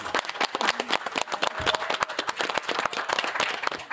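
An event audience applauds its panel members, dense clapping from many hands that keeps going steadily for several seconds at moderate volume, with no speech over it.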